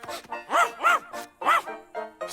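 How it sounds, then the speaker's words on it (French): An animated cartoon dog barks in a lively run of about five bright, yappy barks with short gaps, close and clear over a quiet background. "Cherche, Rantanplan"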